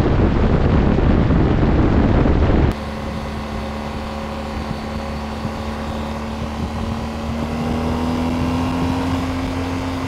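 Motorcycle ridden at highway speed around 50 to 70 mph, a steady engine drone with a slowly rising pitch under constant wind rush, with a loud buffeting burst at the start.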